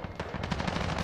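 Rapid automatic gunfire in Call of Duty: Modern Warfare, a dense burst of about a dozen sharp, evenly spaced shots rattling continuously at close range, loud and alone.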